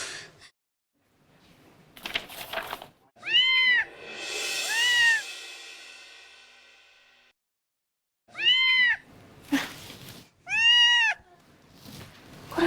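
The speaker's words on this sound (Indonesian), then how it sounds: "Kok ada suara kucing ya?" A cat meows inside an office room: a drawn-out cry, then a quiet pause, then a few more sharp, clear meows close by, with no talking.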